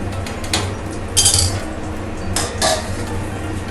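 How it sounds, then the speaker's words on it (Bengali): A metal lid set onto a pot of mutton curry, with a couple of sharp clinks and clatters of metal on metal over a low steady background hum. "এবার আমি মাটনটাকে ঢাকা দিয়ে দেবো"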